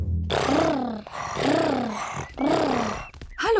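A voice in a Peppa Pig cartoon imitates a tiger's purr as three drawn-out, growling rumbles in a row, each loud and close with brief pauses between.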